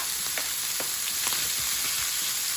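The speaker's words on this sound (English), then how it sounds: "And now I'm going to add sliced onions." Sliced onions sizzle in a hot pan for an Italian pasta and beans dish, a steady bright crackle with small pops and soft stirring clicks throughout.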